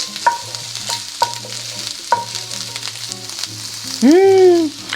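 Garlic and cabbage sauté in a pan with a steady sizzle, stirred with a few distinct utensil clinks, and a short loud squeal or scrape near the end.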